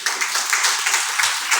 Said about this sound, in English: So give your elder a round of applause.